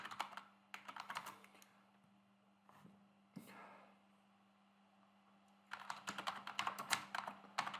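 A prompt is typed on a computer keyboard in quick bursts of close, crisp key clicks. Typing runs at the start, pauses through a quieter stretch with a faint hum and an odd tap, then resumes rapidly at the end.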